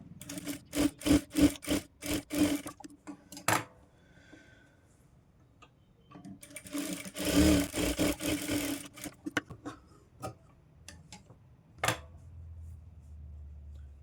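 Sewing machine stitching a diamond-neck blouse, running in short bursts of rapid ticking stitches separated by pauses, with soft rubbing and handling of fabric between runs.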